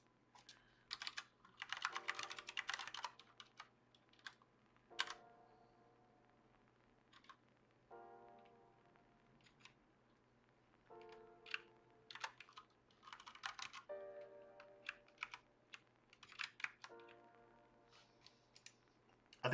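Typing on a split computer keyboard, bursts of rapid close key clicks separated by short pauses, with a steady low background hum and no talking.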